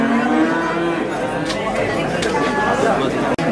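Cattle at a dairy cow contest in Boyolali give loud, drawn-out moos over a crowded, chattering showground, with a steady hubbub of voices beneath the calls.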